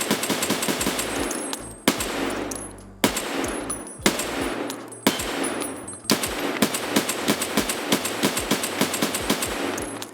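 SVDS rifle fired from the hip in Escape From Tarkov, loud rapid shots in several sustained bursts with brief pauses between them, each report sharp and close with ringing tails.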